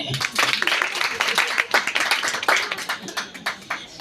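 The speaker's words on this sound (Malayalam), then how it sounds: "ഒരു കയ്യടി കൊടുത്തതിൽ വളരെ സന്തോഷം" An audience at a Kudumbashree neighbourhood group gathering in a ward of Vijayapuram panchayat claps in a dense, lively burst of close hand claps. Some voices mix in with the clapping.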